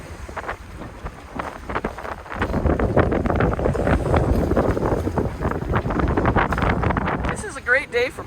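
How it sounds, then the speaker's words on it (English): Strong wind buffeting a catamaran at sea in about 20 knots of wind with choppy waves, a rushing, roaring wash that grows louder after a couple of seconds, with people talking over it. "You've got 20 knots of wind and snotty weather and a little bit of waves"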